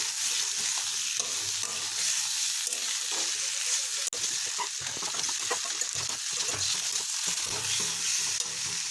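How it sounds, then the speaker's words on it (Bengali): Tomato and chopped green chili sautéing in a wok, a steady close sizzle and frying crackle running throughout with faint stirring scrapes and no talk. "টমেটো আর কাঁচা লঙ্কা কুচি যোগ করে দিয়েছি। তাই এটাকে আমরা মিনিট খানেক ধরে কষিয়ে নেব।"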